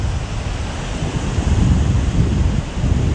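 Ocean surf and gusting wind at a Los Angeles beach, a loud steady roar of breaking waves with heavy buffeting wind rumble swelling and easing, no voices.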